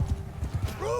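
Hooves of cavalry horses clip-clop in a quick uneven patter during a Bannerlord battle, close and fairly loud, with a brief horse whinny near the end.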